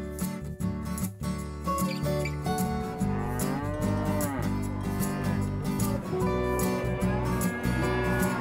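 A cow being groomed before a livestock fair in Albania moos in long, loud, close calls, with a drawn-out low bellow rising and falling over a busy background and some short knocking sounds early on.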